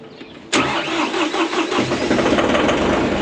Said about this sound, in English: you should probably start the tractor, Joel